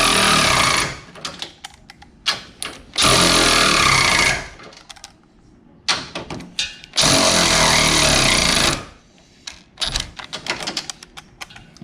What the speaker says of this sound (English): now we're gonna torque down this side completely